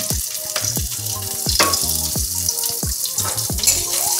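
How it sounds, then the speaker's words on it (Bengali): Chopped green chilli and garlic hit hot oil in a pan, giving a loud, continuous sizzle and crackle close by, with repeated scraping and stirring knocks throughout. "তো প্রথমে আমরা কাঁচা লঙ্কা রসুনটা দিয়ে দিলাম"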